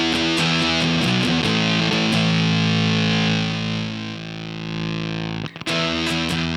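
A Big Muff style fuzz pedal run on an altered supply voltage gives thick, sustained distorted guitar chords with heavy saturation. The chords ring out loudly, then cut off briefly before picked notes resume, with no talking.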